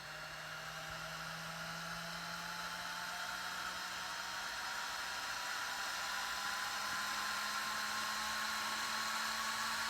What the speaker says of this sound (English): Takes the fan a little bit to wind up.